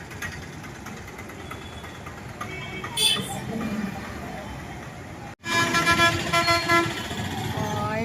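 Heavy traffic streams along a busy road outside a hospital, with engines rumbling steadily and vehicle horns tooting in short bursts. The honking grows louder and more frequent in the second half.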